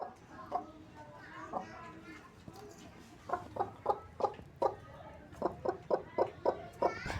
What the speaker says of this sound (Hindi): अब मैं बाजरा दे रही हूँ मुर्गियों को, क्योंकि इन्हें दोपहर का खाना भी तो देना है।